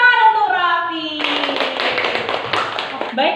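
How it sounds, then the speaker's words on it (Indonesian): A classroom of children applauding a classmate named Raffi, with a steady patter of many small hands clapping close by that starts after a spoken voice and continues for a couple of seconds. "Oke, kita beri tepuk tangan untuk Raffi."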